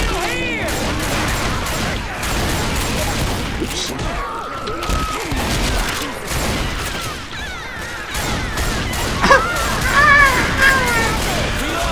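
Chaotic gunfire during a Left 4 Dead 2 zombie fight on the bridge level, with rapid shots, crashes and thuds packed together under continuous game noise and a voice talking throughout.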